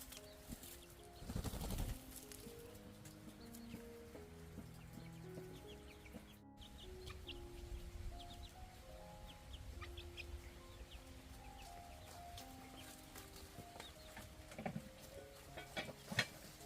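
Chickens in a rural Vietnamese farmyard clucking and calling softly in scattered bursts, with faint bird chirps over a quiet background and no talking.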